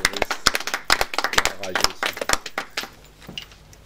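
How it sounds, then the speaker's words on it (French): A church audience applauds for a prophetess, a quick, close burst of hand clapping that fades out over a few seconds, with voices mixed in. "Nous acclamons pour la prophétesse"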